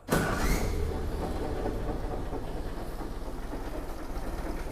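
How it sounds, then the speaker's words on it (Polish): Steady mechanical rumble and rattling drone from the transfer case of an old Ford GPW, loud and continuous with a rhythmic clatter throughout, no talking. "To jest hałas teraz z reduktora."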